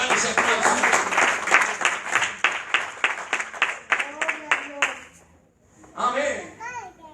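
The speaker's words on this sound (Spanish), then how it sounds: "Vamos a darle ese aplauso." A church congregation claps in a rhythmic, steady applause for about five seconds, then voices and cheering follow as the clapping fades.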